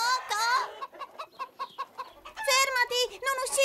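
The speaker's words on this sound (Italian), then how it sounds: "Ora invece è Caillou ad inseguire le galline" Hens in an animated cartoon cluck and squawk in rapid bursts, loud at the start and end with quieter clucks in between, while a voice is heard among them.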